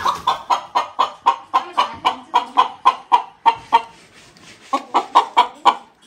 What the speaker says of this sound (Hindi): ये देखो ये मम्मी जी का मुर्गी है